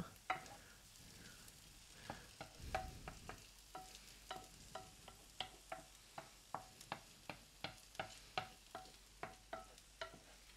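Duck breast fries in its own rendered fat with a soft, low sizzle, broken by a regular series of sharp taps and scrapes from stirring in the pan.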